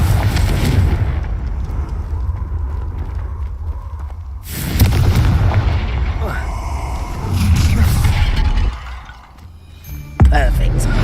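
Confringo blasting spell detonating in a video game, heavy booming bursts with rumbling low end, a sharp blast near the end, under constant game sound and a voice casting spells.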